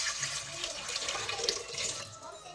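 Water poured into a bowl of freshly milled flour for bread dough, a steady soft splashing stream running the whole time at low level.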